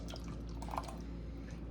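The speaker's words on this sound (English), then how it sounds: "I'm going to pour my butter into this green bowl." Melted butter is poured from a small melting pot into a green bowl, giving a soft, brief liquid trickle and a few faint drips against a steady low hum, with no talking.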